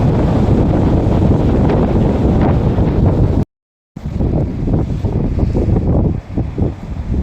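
Strong wind battering the microphone on the coast at Castle Point, New Zealand, loud continuous roaring gusts with a brief dropout midway, then gusty buffeting; no speech.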